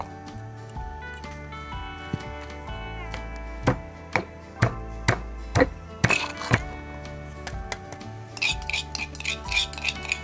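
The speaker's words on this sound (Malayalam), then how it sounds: "ഇനി നമുക്ക് വെളുത്തുള്ളിയും കൂടെ അതുപോലെ ഇട്ടൊന്ന് ചതച്ചെടുക്കാം" Garlic being crushed in a pounding stone for a homemade bucket chicken marinade: a run of sharp, close thuds and cracks, several evenly spaced hits, over steady kitchen background with clattering at the end.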